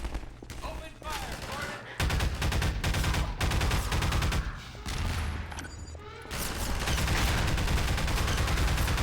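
Gunfire in the video game Half-Life 2 rattles in rapid bursts of sharp shots, broken by brief pauses, with loud dense volleys alternating with quieter stretches, no talking heard.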